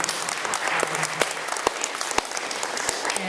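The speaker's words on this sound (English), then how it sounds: "Somebody's applauding back there." Part of an audience at a candidates' forum applauds, producing steady, moderately loud clapping from several people with a few sharper, distinct claps standing out.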